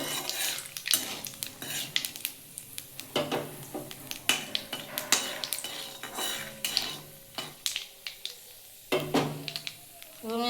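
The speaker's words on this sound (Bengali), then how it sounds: "ওই তেলের মধ্যে একটা শুকনো লঙ্কা আর একটু কালো জিরে ফোড়ন দেবো দিয়ে একটু ফোড়নটা ভেজে নেব" Dried red chilli and black cumin frying in hot oil in a pan, a soft sizzle under repeated close clinks and scrapes of a spatula stirring, in irregular bursts.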